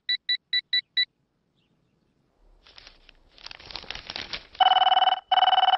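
A telephone gives a quick series of five electronic ring pulses, falls silent, then after some rustling rings again with louder, longer tones close by.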